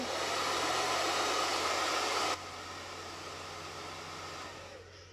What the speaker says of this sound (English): That's what I'm going to blow dry it just because I don't want to smear it all around.